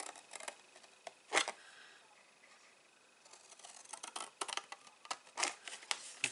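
Scissors snip through cardstock for a small 2-inch gift box, close and quiet: a few crisp cuts early, a pause, then a quicker run of short snips.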